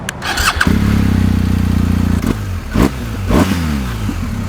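A BMW R 1250 GS Adventure motorcycle cranks and fires up, its boxer engine catching with a burst of revs, then settling into a loud, steady idle broken by a couple of quick throttle blips.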